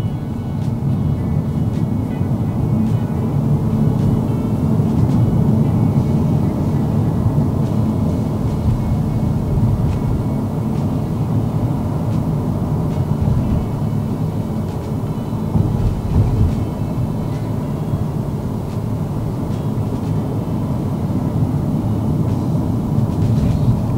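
A steady low rumble of road noise fills the cabin of a Toyota Innova Zenix cruising at 50 km/h, constant and droning with no voices.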